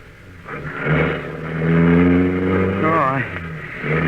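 An old car starts up and pulls away from a barn in a radio drama, its engine revving and rising in pitch beneath close shouting voices over about four seconds.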